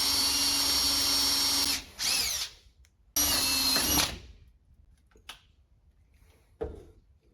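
A power drill whines loudly in three close bursts as its bit snaps off, followed by a few faint knocks and clatters in near silence.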